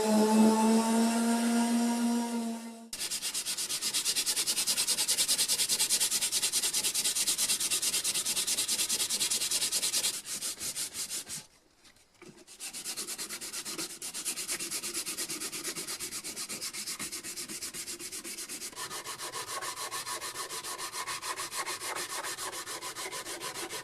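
Wooden guitar body being sanded by hand, giving long stretches of steady, close, gritty rasping with short pauses and a change of stroke toward the end.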